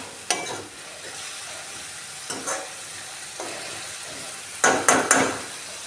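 Spice masala stirred and roasted in ghee for a halwai-style boiled potato sabzi, giving a few brief scraping, sizzling bursts against a steady low frying hiss, with no talking.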